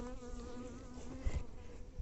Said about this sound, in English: This bee, I think, is a lost forager bee that was like, wow, where are all the other people now?